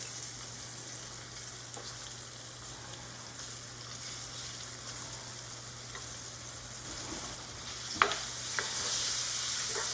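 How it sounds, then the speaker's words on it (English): Half an onion sizzles in pork steak grease for smothered pork cube steak gravy, a faint, steady low crackle with a couple of soft clinks near the end, no voices. "Now it's half of the grease. I'm gonna put a half an onion in here."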